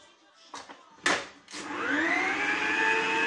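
Stand mixer starting up to dry choux pastry dough, with a few knocks and clatters before the motor rises into a steady, loud whirring hum that holds to the end.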